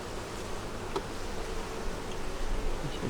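Steady, dense buzzing of a crowd of agitated honeybees around an open beehive with brood frames, close and continuous, with no voices.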